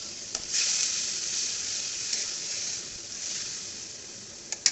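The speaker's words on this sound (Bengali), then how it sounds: "এবার আমি মশলাটা ভালো মতো কষাবো।" Spice paste sautéing in a pan for a katla fish curry, a steady close sizzle with a few stirring clicks and scrapes, no talking.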